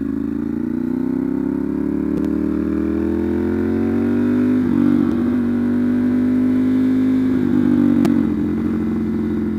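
A Ducati Monster 796 fitted with an SC Project CR-T exhaust idles and blips nearby, a loud, deep, rough lumpy rumble that rises slightly in pitch and holds steady, with no voices.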